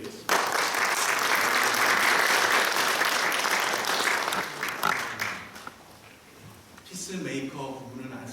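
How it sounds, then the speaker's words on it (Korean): A church congregation at an ordination service breaks into loud, sustained applause that fills the room, slowly tapering off after several seconds as a voice begins speaking over the fading claps. "살아계신 하나님께 영광의 박수 올려드리겠습니다."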